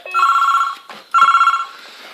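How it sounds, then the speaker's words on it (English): A desk telephone on a SOHO-308C PBX extension rings electronically in two trilling bursts, loud and close, with a short pause between them. "You can hear it ticking over here while it's ringing."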